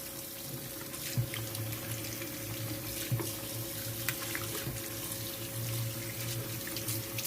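Tap water runs steadily into a sink as hands are rinsed after a minute of scrubbing, a constant close rushing hiss with occasional small splashes and clinks.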